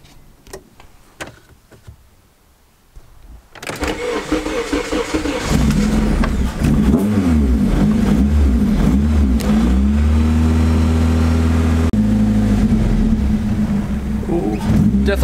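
A Honda Integra running rough with its idle control valve deleted: quiet clicks and a door-like thud, then the engine fires and runs loud and steady close by, revving and settling with wavering tones, no talk.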